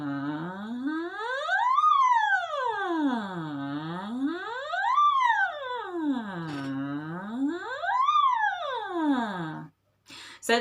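A single voice imitates a siren, sliding smoothly up and down in three long rising-and-falling sweeps with a buzzing, harmonic-rich tone. It is loud and sustained, with no talking, and ends with a brief pause and a short noise.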